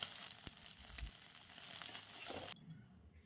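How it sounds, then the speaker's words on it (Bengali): Two eggs fry in hot oil in a wok, giving a steady, close sizzle and crackle that runs for a couple of seconds before cutting off abruptly. "কড়াইতে দিয়ে দিলাম তেল আর দিয়ে দিলাম দুটো ডিম"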